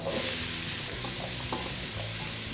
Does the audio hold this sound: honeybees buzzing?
no